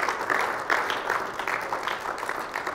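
Applause from a church congregation during a Spanish-language prayer service, a steady wash of many hands clapping at moderate loudness with no voice over it.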